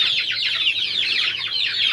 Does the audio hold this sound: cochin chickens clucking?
yes